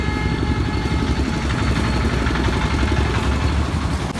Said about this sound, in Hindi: तो भाई देखो फिर से निंजा आ रहा है